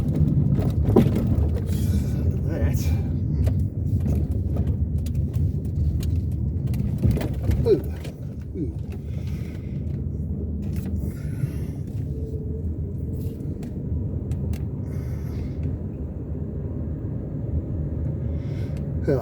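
A car drives along a coastal road beside False Bay near Cape Town on a summer day, giving a steady low engine and road rumble throughout, close and continuous, with a few brief knocks and rattles.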